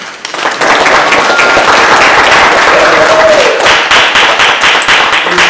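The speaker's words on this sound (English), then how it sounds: "So we got to clap it up for that" A crowd at an in-person mass meeting in a Baltimore theater claps loudly and briskly. Sharp, close hand claps build quickly and carry on for several seconds, with some voices under them.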